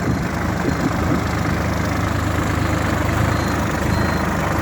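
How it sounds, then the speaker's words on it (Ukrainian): The heavy diesel engine of a Solis 50 tractor without a cab idles steadily and close by, a constant low rumble with no change in pace throughout. "Великий потужний трактор."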